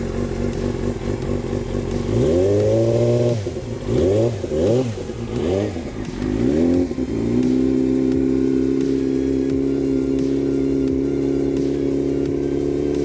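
An engine idles roughly, revving up and down in a series of wavering surges before settling into a steady, loud, close running drone.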